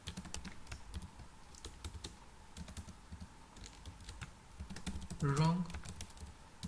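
Fingers typing code on a computer keyboard, a quiet run of irregular close clicks and taps throughout, with a brief spoken word near the end.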